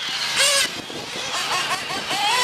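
Racing car engines from a GT8 main race at the 2017 DeSoto Grand Prix whine past at high pitch, several buzzing motors rising and falling in quick succession.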